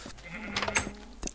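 Minecraft sheep bleat several times in short, nasal bursts, close and clear over a quiet game background.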